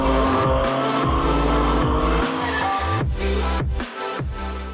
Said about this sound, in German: geht raus an die Nordschleife, geht raus, versucht nah an die Strecke zu kommen, seht die Autos fliegen